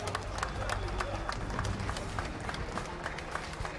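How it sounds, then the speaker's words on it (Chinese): Applause fills a space mission control hall after the Shenzhou-9 crew enter the Tiangong-1 station, with many hands clapping in a busy, steady patter while voices carry on underneath. "控制大厅再一次响起了掌声。"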